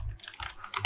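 Close computer keyboard typing as code is entered, a brief run of quick, light key clicks with no talk.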